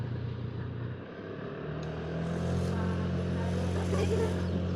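Car on an alternative mountain road toward Magelang, a steady engine drone with a faint rising whine as it gradually grows louder and closer, with indistinct talk inside.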